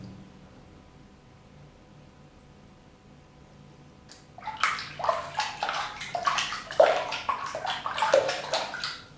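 Water sloshes in a tank in repeated surging waves made by hand, a series of close splashes after several seconds of near silence.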